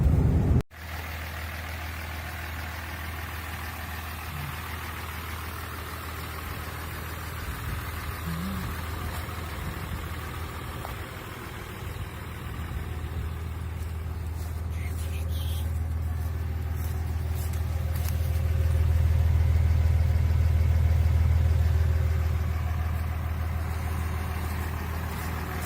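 A 2009 Dodge Ram 2500's 6.7 Cummins diesel engine rumbles steadily with a deep low drone, swelling louder toward the end as the exhaust brake engages, with no talking.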